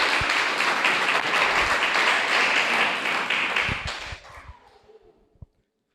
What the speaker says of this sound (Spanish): Dale fuertes palmas